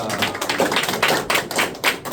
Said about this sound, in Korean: 우리 하나님께 영광과 감사의 박수.